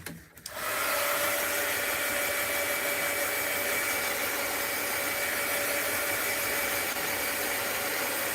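A hand-held dryer blows over drying ink on a mixed-media postcard, switching on after a brief moment and then holding a steady, close, continuous whir to the end.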